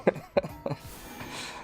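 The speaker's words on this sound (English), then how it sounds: "I gotta cough till I die." Three sharp, fairly close coughs in quick succession from a streamer playing Pokémon Legends: Z-A, each a short burst, followed by a fainter hiss with no other sounds.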